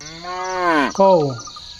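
A cow lets out a single loud, close moo that swells, breaks briefly, and resumes before fading, with a faint insect-like hiss in the background.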